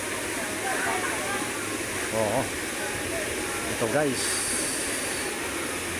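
Bagacay Falls waterfall in Curuan, Zamboanga City, a loud steady broadband rush of falling water filling the scene, with people talking briefly over the roar.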